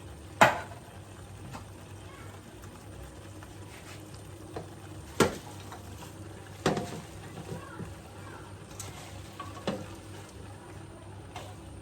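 Kale added to a hot pan and stirred for a seafood medley, a low sizzle underneath with a few sharp clacks of a utensil against the pan spaced several seconds apart.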